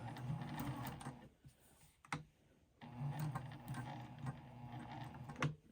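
Sewing machine stitching a mitered quilt border, a steady mechanical whir in two bursts separated by a brief pause, with a few sharp clicks, close and fairly loud.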